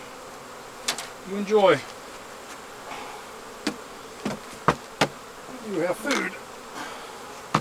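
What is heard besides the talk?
honey bees buzzing at a hive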